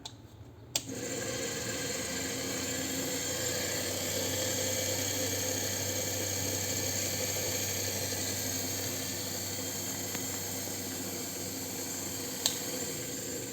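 Washing machine motor, removed and wired to external power, switching on with a click and then running as a steady mechanical hum and whine that stays even for over twelve seconds, with a few faint ticks and no talking.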